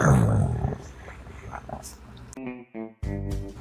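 A lion roar sound effect, a deep growling roar that fades and breaks into rougher, stuttering bursts, loud and close with a brief silent gap near the end.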